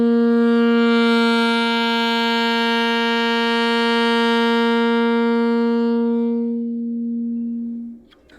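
A wind instrument holds a sustained G for about seven seconds, starting soft, swelling louder and fading again, with rich, even harmonics before the note stops.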